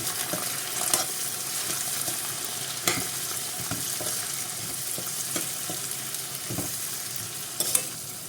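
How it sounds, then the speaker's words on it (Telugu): Grated raw green mango frying in a pan, a steady close sizzle with occasional stirring scrapes and clicks, no voices over it. "ఒక 2 స్పూన్స్ ఇలా పచ్చి మామిడికాయ తురుము పక్కన వేసుకోవాలి ఫ్రైనింగ్ చేసుకోవడం కోసం"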